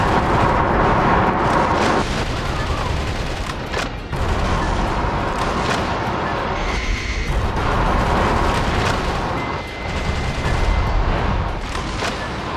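Missile fire and blasts in the video game Metal Wolf Chaos XD, a dense, loud, continuous barrage of booms and rumbling explosions with short dips in between.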